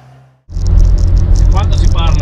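After a brief quiet moment, a restored 1979 Alfa Romeo Alfetta GT 1.6 engine roars up close while driving and keeps running loudly, a deep throaty rumble with some higher whine.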